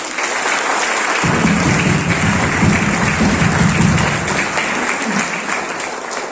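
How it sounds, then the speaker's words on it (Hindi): Loud, dense applause from a tour group gathered at Jim Corbett National Park, steady clapping filling the whole stretch with a faint murmur of voices underneath. "बार जोरदार ताली होनी चाहिए।"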